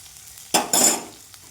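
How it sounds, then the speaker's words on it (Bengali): Potatoes hit a pan of fried onion and garlic, two sharp close bursts of sizzling hiss about a second long in total, quickly fading to quiet. "আলুটা দিয়ে দিলাম আলুটাও একটু ভেজে নেবো"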